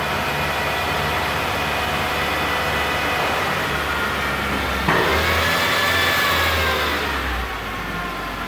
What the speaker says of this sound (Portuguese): Vendo o barulho da tração do carro.